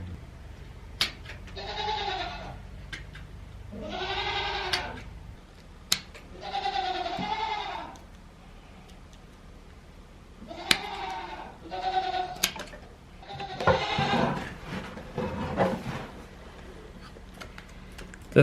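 A goat bleats several times during hoof trimming, loud close calls separated by short pauses, with faint handling noises between them.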